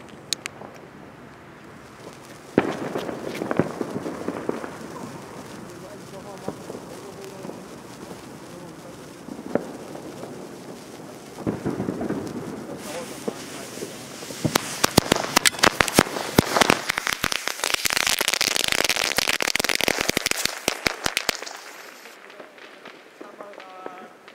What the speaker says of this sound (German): heute gibt es für euch eine Lady Cracker Knallkette